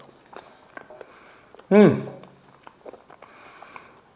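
Soft air-fried potato being chewed close up, with quiet wet mouth clicks and a short, loud hummed voice in the middle.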